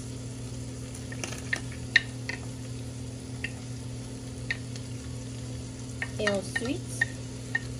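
Chopped chives, parsley, onion and green pepper stirred in a pan, a low steady sizzle with occasional soft scrapes and a brief clatter near the end, while a voice speaks briefly.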